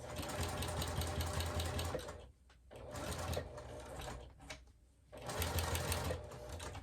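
A sewing machine stitches a zippered clutch purse with foam inside, running in loud close bursts separated by short pauses.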